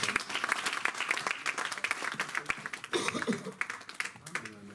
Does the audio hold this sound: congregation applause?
yes